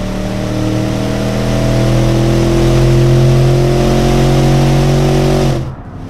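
Loud 1980s premium car engine in the Automation game revving steadily upward, harmonic tone climbing and holding strong for about five seconds before cutting off abruptly.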